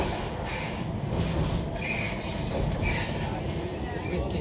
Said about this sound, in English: off we go on a very squeaky tram.